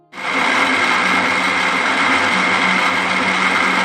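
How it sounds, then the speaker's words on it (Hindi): An electric mixer grinder pulverising soaked lentils, starting abruptly and running as a loud, steady high-pitched whir that continues unbroken to the end. "तो आइए अब हम इसको मिक्सर में पीसेंगे।"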